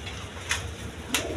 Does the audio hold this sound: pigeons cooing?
yes